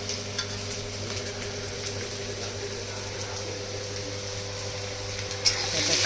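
Chopped onion fries steadily in a pan while making a sprouted moth bean (matki) dal dish, a soft, even sizzle with a low background hum and a brief clatter near the end.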